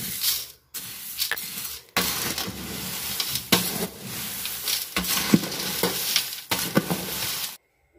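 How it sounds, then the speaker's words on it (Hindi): Dry chivda snack is stirred and tossed with masoor and sev, giving bursts of crisp rustling and crunching that stop and start over several seconds, close up and fairly quiet. "अब नाश्ते की प्लेट लगा ली तब याद आया कि रात में तो मसूर और सेव मिलाना भूल ही गई थी, तो अब इसको मिक्स कर रही हूँ"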